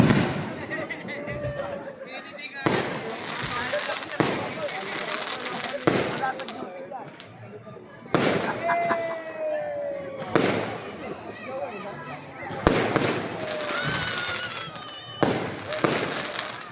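Christmas fireworks in Sto. Tomas, Batangas burst repeatedly, with sharp loud bangs every couple of seconds and crackling trails in between, a crowd murmuring faintly underneath.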